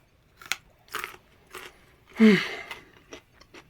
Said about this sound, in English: I need to drown my sorrows in something orange and crunchy.